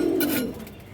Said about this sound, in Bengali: এটা মূলত দর্শক একদম পুরান জাতের দুধ খাকি কবুতর